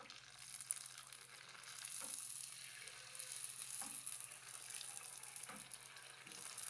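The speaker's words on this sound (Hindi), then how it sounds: "बाकी के गोलगप्पे भी हम एक एक करके फ्राई करते जाएंगे।" Gol gappa puris deep-frying in hot oil for a Lahori pani puri recipe, giving a steady broad sizzle throughout with a few soft clinks or splashes, close and fairly quiet, no talking.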